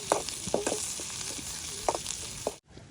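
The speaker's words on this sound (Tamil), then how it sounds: "கருவேப்பிலை, ஓகே போட்டு நல்லா வதக்கி எடுப்போம்." Curry leaves sautéing in a pan with mustard seeds, onion and green chilli, a steady close sizzle and crackle broken by sharp spatula scrapes and taps, in an outdoor garden kitchen.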